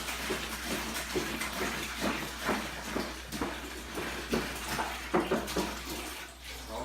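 Water pours from a tap into a container, filling it to 1.5 gallons for a citrus chicken brine, a steady splashing stream with uneven gurgles, close and moderately quiet.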